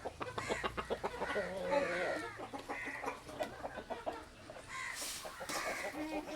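Hens clucking in short repeated bursts, fairly close, with other farmyard noise and a busy, scratchy background.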